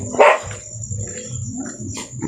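A single sharp dog bark rings out at the start, then fainter barks and yips follow over a steady high-pitched insect drone.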